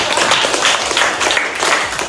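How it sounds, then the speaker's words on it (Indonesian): Schoolchildren in a classroom clap together for a classmate's answer, a short, loud burst of close, uneven clapping. "tepuk tangan."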